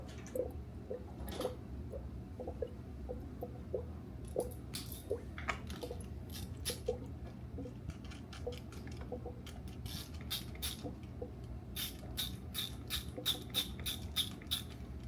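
Faint intermittent bubbling and small squishy pops from coolant in a YagerWerx intercooler system during bleeding, irregular gurgles and drips heard close and quiet over a low steady background hum.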